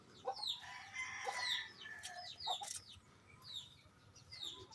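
Chickens cluck steadily nearby while a rooster crows more than once, the calls overlapping with chirps from small birds in the background.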